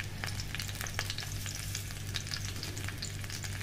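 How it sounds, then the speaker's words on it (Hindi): Mango pieces fry in a pan for sweet-and-sour pickle, a loud, steady sizzle with crackles and light stirring scrapes close by, no voices. "आम को मैंने 2 मिनट के लिए अच्छे से भून लिया है।"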